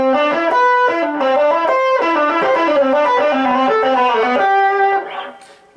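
Distorted electric guitar through a distortion pedal with the tone knob set around eleven, sustained chords ringing with dense harmonics for several seconds, then fading out near the end.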